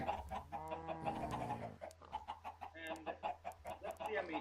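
Chickens cluck in a steady, busy stream in the video game Minecraft (Tekkit Lite mod), several birds overlapping at close range with a low constant hum beneath them.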